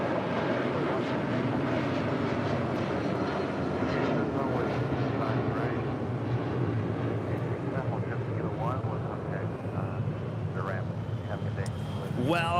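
A United Boeing 757-200 on flight 1677 to Newark gives off a steady, broad jet rumble and whine at LAX, while a person talks continuously over it.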